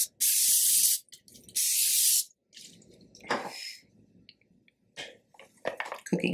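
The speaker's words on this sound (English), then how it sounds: "spray it just with cooking spray inside." Two long hissing bursts of cooking spray coat the inside of an enamel baking dish, loud and close, followed by quieter clinks and shorter sprays.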